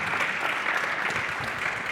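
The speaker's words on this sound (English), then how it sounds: "So please give a round of applause for Dawn, Artúr, and Norhaizad." Audience applause for a conference panel, steady and dense clapping filling the whole stretch at moderate loudness, with no speech over it.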